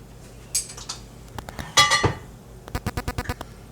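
A buttered metal baking pan for a tomato bread gratin being handled, giving a few scattered clinks and clatters followed by a quick run of light metallic taps, close and fairly crisp.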